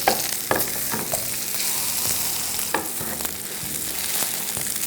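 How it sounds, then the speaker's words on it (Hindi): Chicken grills in butter and oil with a loud, continuous sizzle, broken by a few sharp clicks and scrapes of stirring or pressing, close up and without talk. "बटर और ऑयल में इसको आपको ग्रिल करना है।"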